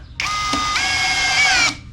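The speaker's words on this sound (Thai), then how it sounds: "ต่อไป ผมจะใช้เป็นโหมดเจาะเลยนะครับ นี่เกียร์สองนะครับ สกูแบบเดิมครับ" A CANLIDI CID 100 cordless drill in drill mode, second gear, drives a screw. It gives one loud, close, steady whine of nearly two seconds that rises slightly in pitch partway through, then stops abruptly.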